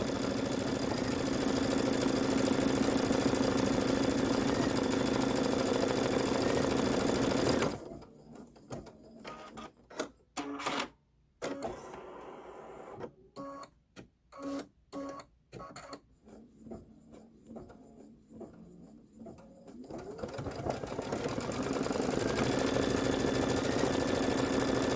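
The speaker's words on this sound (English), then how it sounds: "It's going to do the outer fairy eyelet stitches." An embroidery machine stitching outer fairy eyelet stitches, with a steady loud mechanical whir at first, then a stretch of choppy, irregular motor bursts and pauses, before the even running resumes.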